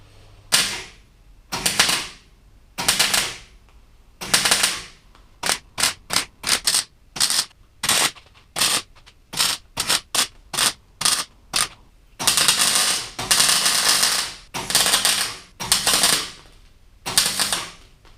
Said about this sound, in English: time to weld them up